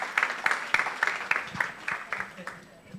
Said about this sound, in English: Can we please give another round of applause for this team?